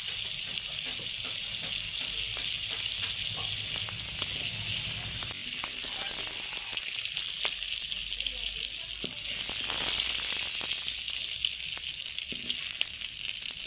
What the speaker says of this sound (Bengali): চিংড়ি মাছগুলো ভালো করে ভেজে নিতে হবে